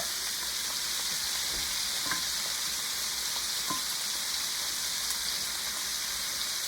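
Two chopped onions fry in hot oil, a steady, dense sizzle that holds evenly from start to finish, with a few faint clicks from stirring.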